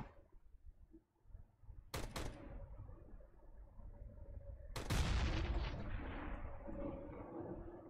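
Two sharp gunshots in Counter-Strike: Global Offensive, the first at about two seconds and a heavier, booming one later, each trailing off into a rumbling echo.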